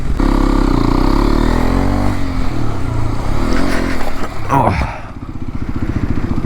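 Hero XPulse 210 motorcycle engine running under load while riding, a loud steady mid-pitched drone with rising revs and a brief scrape, then settling into a lower chugging idle-like rhythm near the end.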